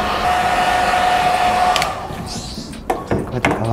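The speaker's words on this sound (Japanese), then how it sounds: "時間がない人は ドライヤーの 弱風を使って、軽く半乾きになるようにちょっと根元中心にねちょっと乾かして" A hair dryer running on its low setting blows a steady whoosh for about two seconds while drying the roots of short hair, then drops away into softer handling sounds and light knocks.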